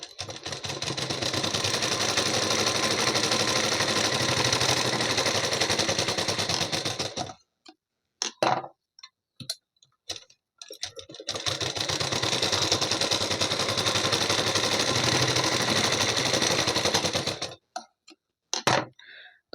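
A sewing machine runs in two long steady bursts of rapid mechanical stitching, double-sewing a tack on a size 38 blouse, with brief clicks and handling noises between the runs.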